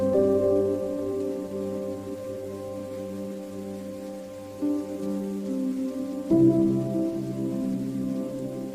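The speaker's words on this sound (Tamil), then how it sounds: "பாருங்கள், இந்த மழை எவ்வளவு அழகா பெய்கிறது" Steady rain falls on a school day, a soft continuous patter with a few brief louder bumps, heard alone with no voices.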